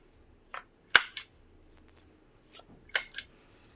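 A handheld paper corner rounder punches off the corners of a card, giving two sharp, close snapping clicks with faint rustling around them and no talk.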